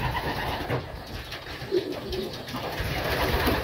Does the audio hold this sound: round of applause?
no